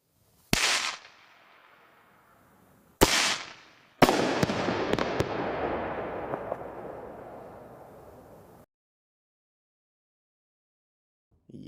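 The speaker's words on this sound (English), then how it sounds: "All right, so we got fireworks." AI-generated fireworks with sound: two sharp isolated bangs, then a louder burst with crackling that trails off over several seconds before silence and a final pop.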